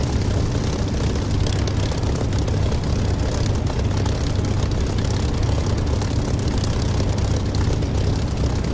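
Spitfire engine taxiing in the DCS flight simulator game, a loud, steady propeller drone with a throbbing low rumble, close and unbroken, no speech.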